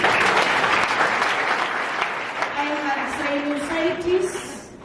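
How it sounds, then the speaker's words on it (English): Audience clapping at a speaking event, steady and full at first then thinning out, with voices and a few shouts rising underneath toward the end. "Isn't that something worth giving a clap for?"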